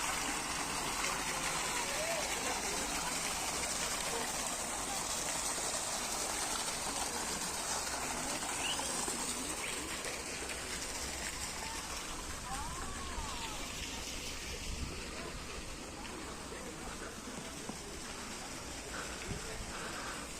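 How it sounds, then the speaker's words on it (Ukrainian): Water spills down a boulder-shaped stone waterfall in an Odesa park, a steady full-band rushing and splashing that stays close and continuous, with faint background sounds under the flow. "Водоспад який чудовий, да?"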